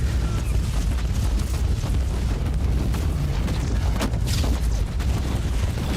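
A webway gate is blown apart in Warhammer 40K: Inquisitor - Martyr, a loud, sustained rumbling roar of blasts and crackling debris with a sharper burst near the end.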